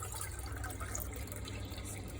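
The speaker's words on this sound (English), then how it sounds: "I'm also going to add in water" Water poured steadily into a pot while cooking methi kapnya, an Indian pasta dish, a soft continuous splashing stream heard alone and fairly faint.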